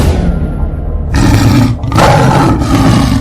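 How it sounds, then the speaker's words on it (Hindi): A lion roars again in a comedy jail skit, with two loud rasping bursts close together that start from a steady rumble and fill the short stretch with no talk. "फिर से शेर की दहाड़ने की आवाज आई।"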